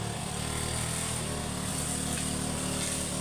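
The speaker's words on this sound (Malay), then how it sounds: "Mesin rumput ni rosak lah. Repair buat sendiri bagi jalan." A small petrol grass trimmer engine, faulty and home-repaired, runs steadily at a constant idle-like drone, loud and close, with no breaks or talk.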